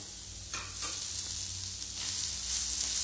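A paste of green chili, ginger, coriander and garlic with cumin seeds sizzles steadily in a pan, with a few soft stirring scrapes near the start and frying that grows slightly louder, heard close with no talk.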